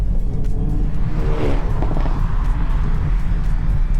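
Hyundai i30N driven hard through rally stage corners on the Adelaide Rally, a loud, constant engine and road rumble heard from inside the car with a brief whooshing surge midway.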